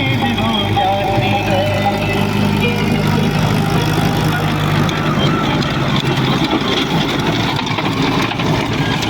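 A tractor engine runs steadily in a farm field where rotavator work is under way, a loud continuous low rumble with mixed outdoor noise throughout.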